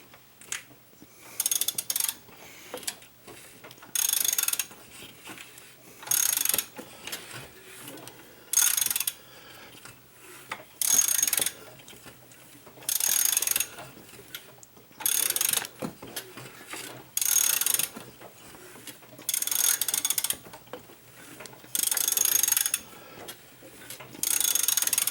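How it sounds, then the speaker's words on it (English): A ratchet turns the crankshaft of a 2008 BMW 535xi engine with the valve cover off, giving repeated bursts of rapid clicking separated by short pauses, close and distinct, with no talking. "Let's rotate the crankshaft and see if anything's in the timing chain."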